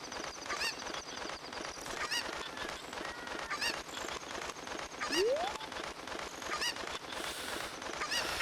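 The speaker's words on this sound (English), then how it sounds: "This is why I hate picking up chickens." A cucco, the chicken of The Legend of Zelda: Ocarina of Time, honks and squawks over a busy game soundscape, with a brief rising cry partway through.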